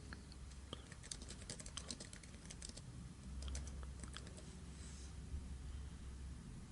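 Rapid typing on a computer keyboard while filling in a form, with irregular bursts of clicking keystrokes over a low background hum, no talking.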